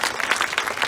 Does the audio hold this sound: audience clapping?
yes